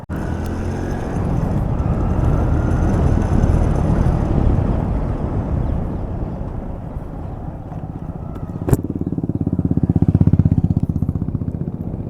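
Motorcycle ridden along the road to Pavagadh hill, a steady close engine drone mixed with rushing wind noise throughout, briefly dipping then swelling louder near the end.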